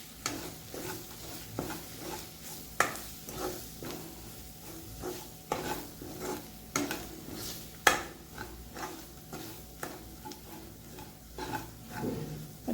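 Spoon scraping and stirring red chili powder and paneer masala in a pan, a steady run of soft close clinks and scrapes over a faint sizzle, with no voices.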